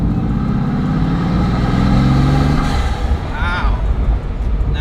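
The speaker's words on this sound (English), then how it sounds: "the sound of those turbos, the spools in and out" A Bugatti Veyron's engine with turbos spooling up and down, a loud close rumble that rises and falls, with people talking over it.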